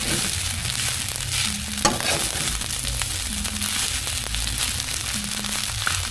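Leftover fried rice with seasonings being stirred in a pan, giving a dense, steady sizzle and crackle with continuous scraping and tossing, close and fairly loud throughout.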